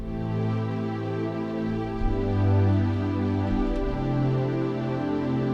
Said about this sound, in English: use these nice string sounds called analog